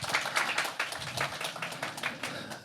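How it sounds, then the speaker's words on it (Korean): An audience at a Korean business management association conference on CSR applauds, a steady patter of many hands clapping at moderate distance, continuous for a few seconds. "다시 한번 큰 박수 부탁드리겠습니다"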